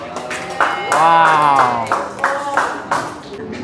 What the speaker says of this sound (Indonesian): Tepuk tangan untuk Melisa.